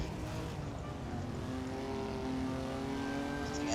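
1955 Formula 1 race cars in Assetto Corsa at Belgium, a steady droning engine note with rising and falling tonal whines as cars run in close company, continuous and moderately loud.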